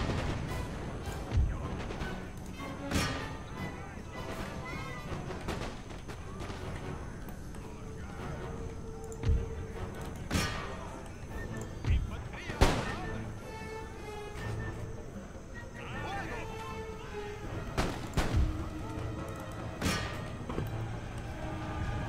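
Artillery pieces fire repeatedly across a battlefield in Empire Total War, sharp booming reports spaced irregularly over a rumbling bed of distant gunfire and unit noise, with a voice talking intermittently underneath.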